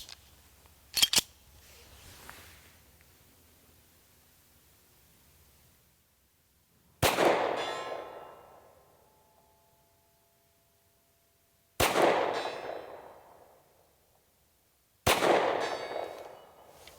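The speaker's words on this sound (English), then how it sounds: "So we're going to go for the 100-yard shot." SAR USA K12 Sport pistol fired at a 100-yard target outdoors: a handful of loud, sharp shots spaced several seconds apart, each with a long ringing decay, alone with no talk.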